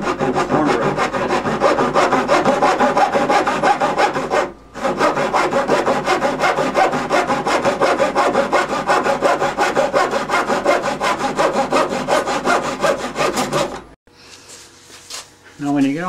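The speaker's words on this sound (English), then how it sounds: "You can take a little saw like this and just cut off the corner." A small hand saw cuts the corner off the wood edge of a laminate countertop. Fast, steady rasping strokes run close and loud for about fourteen seconds, with one brief pause, then give way to quieter handling noises.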